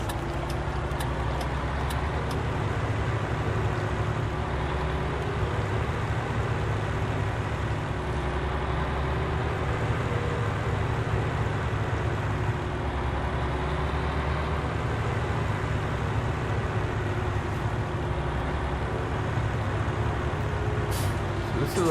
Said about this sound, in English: bearing in mind I'm in a truck